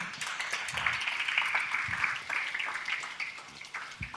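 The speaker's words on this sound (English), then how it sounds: "Please join me in giving a big round of applause to Faye" Steady, moderately faint applause from an audience honoring Faye at a microfinance learning event, even clapping throughout with a few louder claps standing out.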